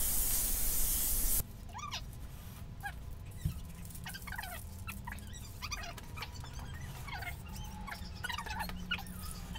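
An aerosol can sprays black paint through a stencil onto scrap wood, a loud, steady hiss lasting just over a second and then cutting off. Quieter chirping sounds follow in the background.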